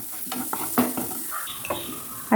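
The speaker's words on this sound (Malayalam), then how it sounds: "ഇതിലേക്ക് ചേർത്ത് നല്ലതായിട്ട് വഴറ്റി കൊടുക്കാം" Onions and green chillies sautéing in a pan for egg curry, with a soft sizzle under repeated close spatula scrapes and clinks against the pan.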